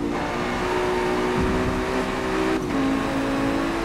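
A race car engine in the video game Forza Motorsport drones at high revs with steady tonal whine, shifting pitch briefly as gears change, continuous and fairly loud.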